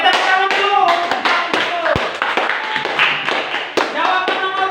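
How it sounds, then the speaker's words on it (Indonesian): Hands clap in a classroom, a group applauding in a quick burst of irregular, close claps with a few sharp taps, while voices murmur underneath. "Oke, tepuk tangan dulu."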